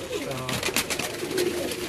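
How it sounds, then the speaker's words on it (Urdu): A teddy pigeon coos, soft throaty calls rising and falling near the microphone while a voice talks over them. "یہ ٹیڈی کبوتر ہے"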